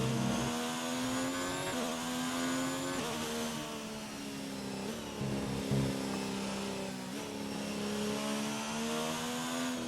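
Formula 1 car engine in a racing video game, a high whining engine tone climbing repeatedly through gear changes, steady and close with no talking.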